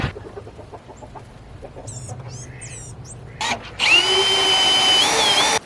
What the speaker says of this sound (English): I added an extra like roofing screw into the back side of this